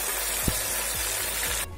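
Water splashed into hot masala in a pan for a surmai fish meal, making a loud, steady, close sizzle and hiss with a few stirring scrapes, then cutting off sharply at the end.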